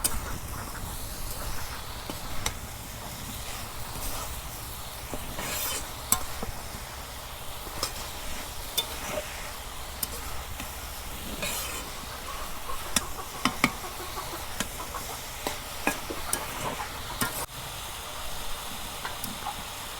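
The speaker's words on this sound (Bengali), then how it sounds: "পাতাকপি ভালো করে নাড়াচাড়া করি" Shredded cabbage being stirred in a cooking pot for a Bangladeshi village dish, with a soft steamy hiss and scattered spoon scrapes and knocks, close and fairly quiet with no voices.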